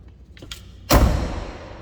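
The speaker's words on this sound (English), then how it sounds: "Listen to that door close. They don't sound like that anymore." A heavy 1978 Lincoln Town Car sedan door swings shut with a solid, deep thump up close, after a faint click of the latch.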